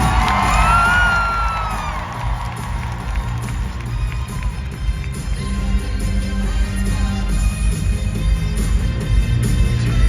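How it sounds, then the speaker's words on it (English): An arena audience at a Stars on Ice figure skating show cheers and whoops, with loud shouts and yells up front, then a sustained crowd roar with music underneath. "Whatever that means, give a cheer because Patrick is here"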